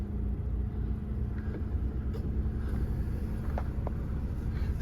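A Mazda CX-3 with a 2.0 SKYACTIV-G petrol engine runs at idle, giving a steady low rumble that stays constant and fairly close.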